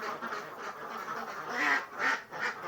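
Ducks quacking in a short burst of overlapping calls, fairly close, with a few louder quacks near the end, heard while searching for laying ducks under a bridge.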